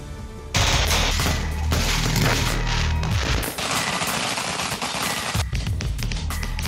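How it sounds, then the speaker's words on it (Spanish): Gunfire and fireworks at night somewhere in Chile: a dense, continuous fusillade of rapid cracks and bangs, loud and sustained, with bursts overlapping like machine-gun fire and a brief lull near the middle. "es rutina que los fuegos artificiales y disparos sean parte de las noches en algún punto del país"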